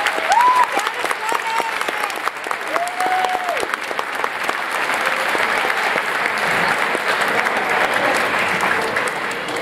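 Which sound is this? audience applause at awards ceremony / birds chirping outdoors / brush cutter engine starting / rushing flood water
audience applause at awards ceremony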